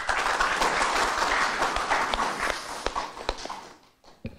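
Applause at a Korean political party event in Gwangju, a dense crowd clapping steadily for several seconds before thinning out to a few scattered claps and fading to near silence.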